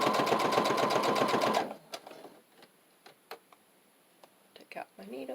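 Sewing machine stitching binding onto a thick fabric junk-journal cover, a fast loud rhythmic whir for about a second and a half, then it stops and only faint handling clicks and taps follow.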